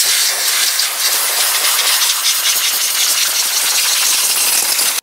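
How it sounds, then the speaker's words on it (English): Compressed air blasts across the top and front of a 2010-2013 Ford Transit Connect engine to clear debris, making a loud, steady broadband hiss that runs unbroken for the whole stretch with no talking. "Use some compressed air to clean any debris from along the top and front of your engine."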